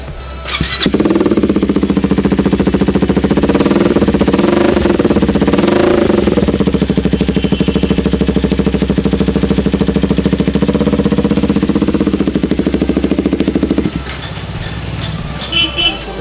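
A KTM Duke 390 Gen 3 fitted with an SC short can aftermarket exhaust revs loud and close, a sustained rough throttle blast held for over ten seconds before dropping back to idle.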